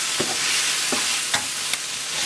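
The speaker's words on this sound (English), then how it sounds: "I keep stirring it occasionally." Mushrooms and onions sizzle and fry in a pan while a spoon stirs them, a steady hiss with a few soft scraping strokes of the utensil spaced through the moment, close and fairly loud.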